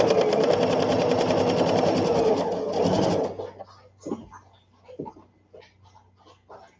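A sewing machine runs in a steady, continuous buzz while stitching around the edge of a baby sunsuit, then stops abruptly, leaving only quiet handling noises and faint clicks.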